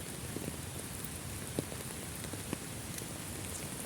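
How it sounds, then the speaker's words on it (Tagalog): Steady, dense rain pours down continuously, with a few louder drops and splashes standing out now and then. "Ang lakas ng ulan."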